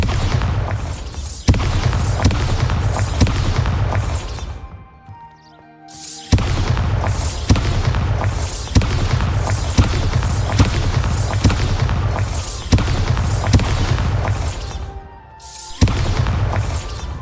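Bombarda spell explosions in Hogwarts Legacy, a run of heavy booming blasts, loud and close, repeating in quick succession with two short pauses broken by lighter chiming tones.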